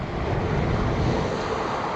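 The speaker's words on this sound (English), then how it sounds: "I can tell by the waves there, they're probably going to be crashing in at high water" Sea waves crash and wash onto a beach after a storm at high water, a continuous loud roar of surf with wind noise, unbroken throughout and with no voices.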